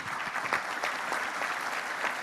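An audience applauds a health-care conference panel at an Argentine health congress, with brisk, dense clapping that holds steady for a couple of seconds.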